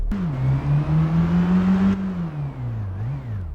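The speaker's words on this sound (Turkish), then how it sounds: "Şimdi beyler gördüğünüz gibi şöyle araç sesleri" A car engine hums and revs close by, its droning pitch rising steadily, then dipping and wavering as the revs fall, with no talking over it.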